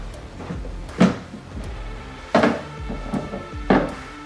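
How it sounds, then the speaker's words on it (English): A DECKED storage drawer in a Toyota Tacoma truck bed slides and clunks, giving three loud knocks spaced about a second apart, with smaller rattles between them and no talking. "it's a neat little drawer system that has these two main drawers that you can pull out"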